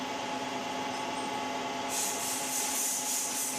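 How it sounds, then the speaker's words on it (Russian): A thread tap turns into an aluminium cylinder head from a Suzuki DF 100-140A 2.0 outboard motor, giving a quiet, steady scraping rub with a brief hissing rise partway through. "ставлю головку и начинаю крутить метчик"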